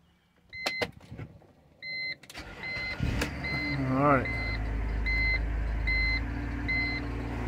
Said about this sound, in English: So vehicle starts